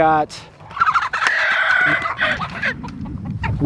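Nearby domestic turkeys on a homestead call out loudly in a burst of gobbling, warbling cries, with a few sharper squawks and rustling around them.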